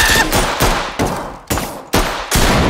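Loud, close gunfire from the tactical shooter Ready or Not, heavy bursts of rapid shots repeating roughly every half second with brief gaps between volleys.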